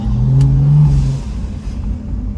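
A BMW N55 turbocharged engine fitted with a Turbosmart VR9 dual port valve pulls hard with a loud, close intake roar and a rising tone, then settles into a steady rumble, heard from inside the car.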